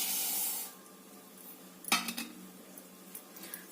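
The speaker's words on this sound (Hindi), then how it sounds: "भून लेते हैं अपना ये अलसी।" Flaxseed dry-roasting in a kadhai, with a soft hiss early on, then a sharp metallic scrape and a few clinks of the spoon stirring against the pan.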